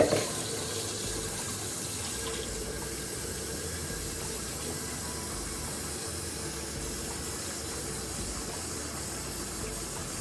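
Cold tap water pours steadily into a cooking pot in a home kitchen, a continuous even rushing and splashing that stays close and loud for the whole stretch, with no talking over it.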